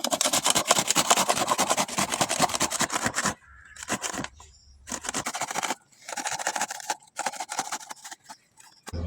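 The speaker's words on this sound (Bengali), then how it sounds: "এই পটলগুলো এখন গ্রেট করে নেব। একটু বড় ছিদ্র গ্রেটটা করব।" Pointed gourd (potol) being grated on a coarse, large-holed grater, with fast, loud, rhythmic rasping strokes that run continuously at first and then come in shorter bursts separated by brief pauses.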